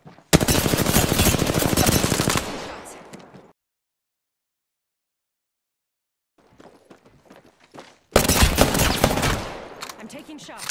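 Gunfire in the Apex Legends video game: two long, loud bursts of rapid automatic fire, the first breaking off into silence and a few faint clicks before a second dense burst resumes near the end.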